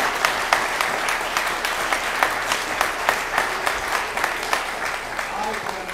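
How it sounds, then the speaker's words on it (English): An audience at a Christmas program gives a round of applause, a steady wash of many hands clapping with some distinct louder claps standing out, continuous for the whole stretch. "Guys, another round of applause."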